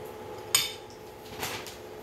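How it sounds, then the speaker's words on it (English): A knife slices through tiny tomatoes on a cutting board while a panko Spam burger is assembled, giving two sharp, close taps about a second apart over a quiet room. "So just go ahead and cut a few tomatoes, these tiny tomatoes"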